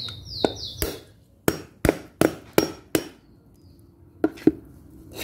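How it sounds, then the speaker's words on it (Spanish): Hammer tapping to make a hole in a ceramic mug, about nine sharp, close taps in an uneven rhythm with short ringing decays, alone without talk. "de igual manera vamos a golpear"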